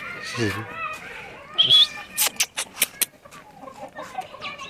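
A Bhimavaram breed rooster and hens cluck and squawk nearby in short bursts at a breeder's farm, with people talking in the background.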